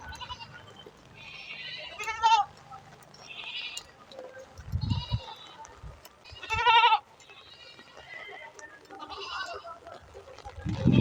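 Several goats bleat outdoors near a home during drizzly weather, with loud, close wavering calls that repeat at irregular intervals over a low steady background.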